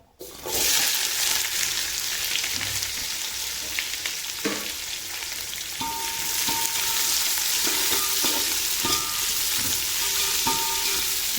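A quarter kilo of onions frying in hot oil for prawn biryani gives a loud, dense, steady sizzle, with occasional scraping stirs and light clinks against the pan.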